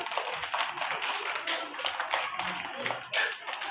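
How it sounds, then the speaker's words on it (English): Children clapping their hands together in a classroom, a dense, continuous patter of many overlapping claps at moderate loudness, with voices mixed in underneath. "And clap your hand."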